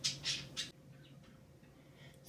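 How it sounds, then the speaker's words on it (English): Three sharp, close bird squawks come in quick succession in the first second, followed by fainter chirps against a quiet indoor background. "ignore the birds, as soon as I record they decide they want to be on one"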